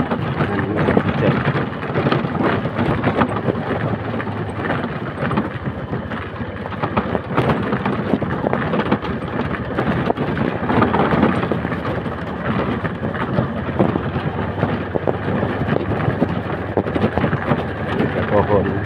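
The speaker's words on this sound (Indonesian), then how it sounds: "dan ini hujan." Rain falls steadily with wind on a forest path, a dense, continuous hiss and rush at constant loudness, with footsteps and faint movement mixed in.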